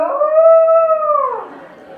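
A human voice imitates a long dog or fox howl, a single sustained tone that holds steady then slides down and fades.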